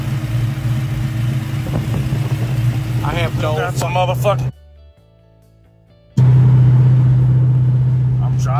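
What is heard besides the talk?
1970 Chevrolet Chevelle car engine while driving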